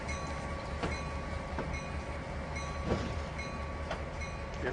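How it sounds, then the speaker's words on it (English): Simulated train rolling on rails in the Trainz 2019 railway game, a steady continuous rumble and hum with faint periodic clicks of wheels over rail joints, no talk. "Again, using the rail driver to operate the train."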